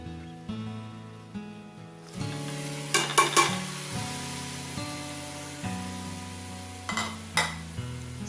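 Chopped tomatoes stir and fry in a pan for prawn biryani, a soft sizzle broken by sharp scrapes and clinks of a utensil against the pan, all heard over steady background music.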